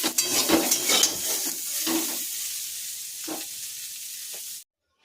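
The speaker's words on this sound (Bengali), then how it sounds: "বেগুনও প্রায় ভাজা হয়েছে" Eggplant (brinjal) pieces sizzle in hot oil, a continuous close frying hiss broken by a few scraping stirs and clinks before cutting off abruptly.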